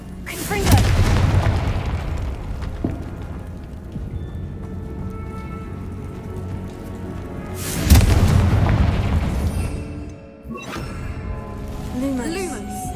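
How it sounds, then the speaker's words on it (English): Confringo fire spells in the Hogwarts Legacy video game go off as heavy booming explosions, two big blasts several seconds apart with rumbling in between. "Confringo!"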